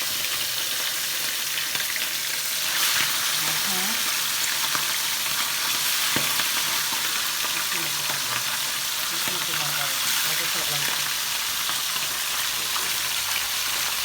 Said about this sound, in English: First fish is going in.